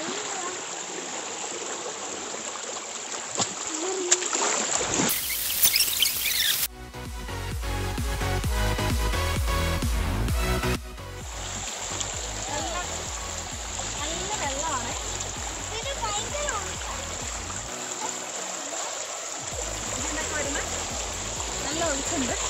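A small village channel fed by a canal rushes steadily and strongly through a Kerala village, a continuous close wash of flowing water with brief splashes, while people talk over it.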